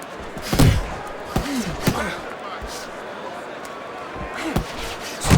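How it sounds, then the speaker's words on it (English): Punches landing in the boxing video game Fight Night Champion, several heavy thuds and slaps spread unevenly across the moment, with crowd ambience and commentary talk beneath. "Nice strike after catching one by Gonzalez"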